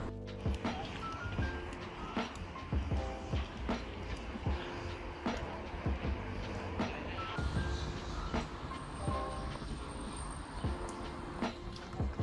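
A train rumbles over a bridge with rhythmic clacking of wheels over joints, a steady rolling roar at moderate distance and faint squeals here and there.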